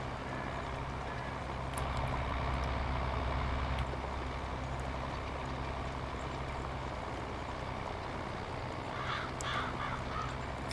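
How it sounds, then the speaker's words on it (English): Crows caw out in the open, faint cries over a steady outdoor rumble of traffic and engine noise, with a short cluster of calls near the end. "Fly away, birdies, don't get squished."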